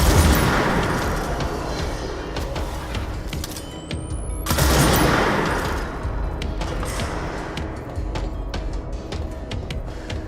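Gunfire in the video game Control, dense rapid volleys of shots with booming impacts layered over a continuous loud game soundscape, including a sharp burst mid-clip.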